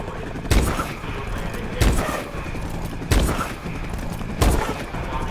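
Four loud, evenly spaced MORS rifle shots fired at a wall in Call of Duty Advanced Warfare, each a sharp crack with mechanical bolt-action clatter between them, with no talking.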